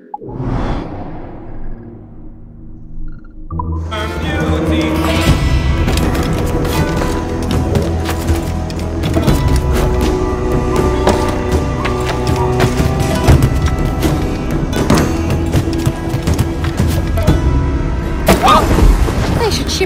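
Ship cannons fire near a harbor in Assassin's Creed 4, with a swooshing impact early followed by sustained booming and crackling gunfire under clamor, loud and continuous with voices talking.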